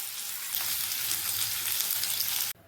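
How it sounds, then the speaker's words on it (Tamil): Mustard seeds splutter in hot oil in a kadai while a Kerala-style fish dish is being prepared, giving a dense, loud, crackling sizzle that runs steadily and then cuts off abruptly near the end. "கடுகு பொரியுது."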